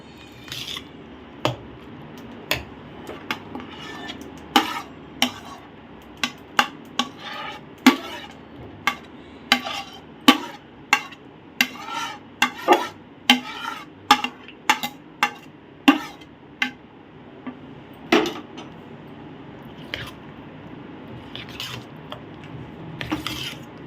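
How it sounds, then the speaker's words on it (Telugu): Custard mixture being stirred in a bowl, a steady series of sharp scraping and tapping strokes repeating roughly every second, close and clear with no talking. "మంచిగా మిక్స్ చేసేసుకుందాం."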